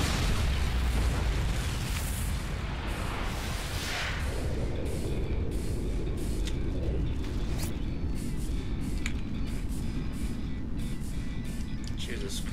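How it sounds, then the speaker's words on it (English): Flashbang grenade detonation in Call of Duty MW3 multiplayer, a sharp burst followed by a long ringing, hissing wash over ongoing game noise with occasional clicks and pops. "Flashbang"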